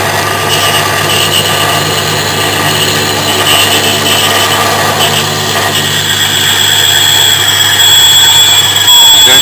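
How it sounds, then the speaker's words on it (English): Steady, loud grinding whine of a drill bit boring into a steel bolt, continuous with no pauses and no talking. "Now hopefully this drill bit's nice and sharp and it'll do its business."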